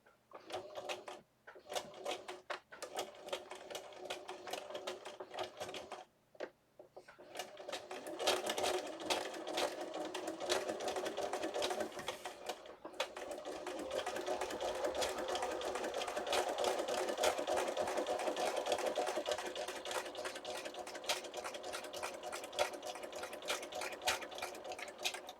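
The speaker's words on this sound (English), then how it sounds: "let me sew this real quick" A sewing machine stitches through a paper lunch sack, whirring in a close, rapid rattle with a few short pauses early on, then running continuously and steadily with no voices.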